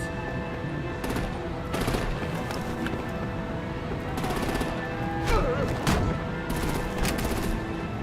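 Bursts of gunfire and rapid automatic shots during a Batman Telltale Series video game battle scene, repeated volleys over a busy backdrop of effects, with a voice calling out orders.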